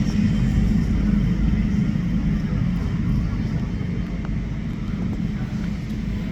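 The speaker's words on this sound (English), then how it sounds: "Fiji Airways, Airbus A380 over there, you can see." Fiji Airways Airbus A380 airliner on approach at LAX, a steady, loud low-pitched jet rumble that stays constant throughout with a slight fade toward the end, heard alone without talk.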